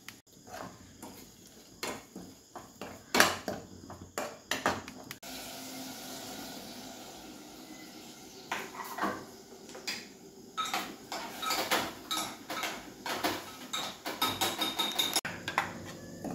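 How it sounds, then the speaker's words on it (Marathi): Ground masala paste being sautéed in a pan until the oil separates, for a homemade rajma curry. A spatula clinks and scrapes irregularly against the pan, close and fairly soft, with a low hissing stretch in the middle. "आता हे वाटण सगळं तेल सुटेपर्यंत चांगलं परतून घेतलंय."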